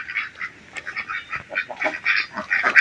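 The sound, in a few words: Australian pelicans on a village pond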